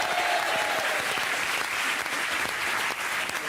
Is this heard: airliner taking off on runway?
no